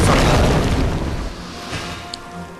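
Fire bomb explosion in the video game Demon's Souls: a loud, booming blast up front that decays into crackling rumble and trails off quietly over a couple of seconds.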